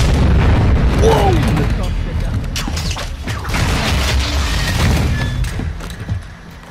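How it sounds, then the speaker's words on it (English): Heavy booming explosions from the Call of Duty Modern Warfare II campaign, a series of deep rumbling blasts and thuds mixed with mechanical game noise, loud and close. "Can I not catch a break from the explosives?"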